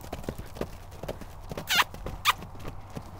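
A horse canters with rhythmic, close hoofbeats in a steady clip-clop, joined by two short high squeaks.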